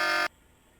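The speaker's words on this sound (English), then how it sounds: "Immediately, an alarm goes off." Security alarm in the video game Tex Murphy: The Pandora Directive, a loud harsh electronic buzz that cuts off abruptly after a fraction of a second, leaving quiet.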